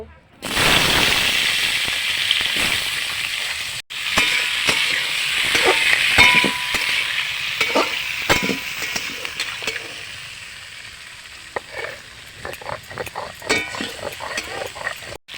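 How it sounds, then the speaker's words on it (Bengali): Potatoes frying in hot oil for a Bengali bata fish curry, a steady broadband sizzle under scattered clinks and stirring knocks, loud and close, with a brief dropout early on and no one talking. "এই তেলের মধ্যে আমি আলুগুলো ভেজে নেব"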